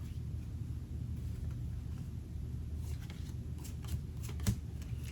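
Soft, continuous riffling of a deck of tarot cards being shuffled close by, with a quiet low rumble underneath and a brief tap near the end.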